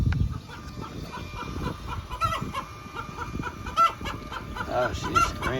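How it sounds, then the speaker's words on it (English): A hen squawks and clucks loudly inside an automatic chicken coop, harsh repeated cries rising and falling close by, with no talking over them. "She is the noisiest chicken."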